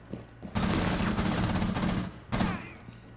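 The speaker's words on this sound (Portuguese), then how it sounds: "Do outro lado tá atirando a gente." Two loud bursts of automatic gunfire in Rainbow Six Siege, a long rattling volley followed by a shorter one after a brief gap, with no talking over it.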